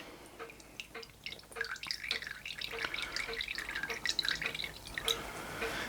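Vinegar drains out of a large scratch-built oscillator model steam engine boiler, giving close, steady dripping and trickling that runs for the whole stretch with no talking.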